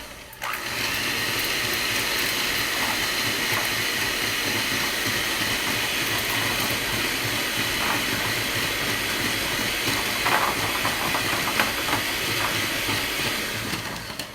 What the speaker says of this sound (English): So I'm just going to dump those in and then get my little mixer going.